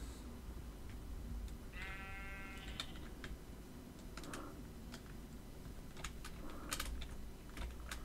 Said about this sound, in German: Das sind zwei Schafe, zwei weiße, ein schwarzes.